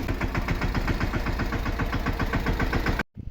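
A tractor engine chugs steadily with a rapid, regular knocking rhythm, loud and close, then cuts off abruptly.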